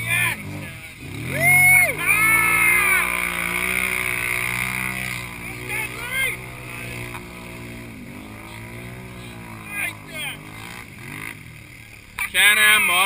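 Can-Am Modified Renegade 909 and Can-Am Outlander 1000 ATVs racing, their engines revving loud and close with rising and falling whines, and voices talking over them.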